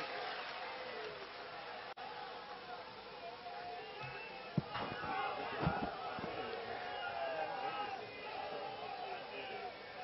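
A large crowd at a Congress party rally in Udaipur claps and cheers to welcome a politician, a sustained wash of applause and hubbub with a few sharp louder bursts mid-way, under amplified speech.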